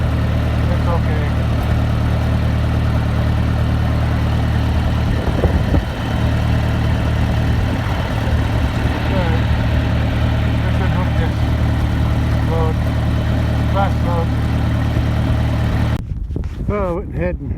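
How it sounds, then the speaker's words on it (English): A tractor engine idles in a pasture, a steady, close, low rumbling drone that holds an even pitch throughout, with faint background sounds around it. "went ahead and parked the tractor, shut it off outside the gate"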